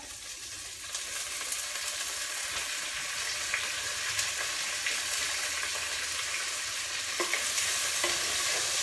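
Asafoetida and fresh curry leaves sauté in a pan for a Tamil moong dal and mudakathan keerai kuzhambu, giving a steady close sizzle with faint stirring clicks throughout, no voices.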